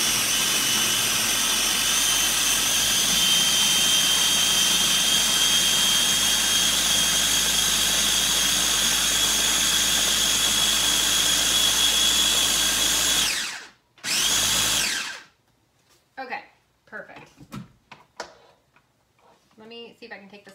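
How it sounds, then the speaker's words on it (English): An electric blender purées curried squash and apple soup in a steady, loud, continuous whir for about thirteen seconds, then cuts off abruptly, leaving brief quieter clatter and handling sounds. "let me blend this."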